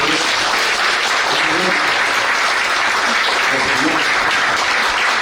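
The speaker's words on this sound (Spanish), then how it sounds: "Démosle un aplauso al Señor, hermano." A church congregation applauds in a steady, dense wash of clapping that runs the whole time, loud and close, with no break.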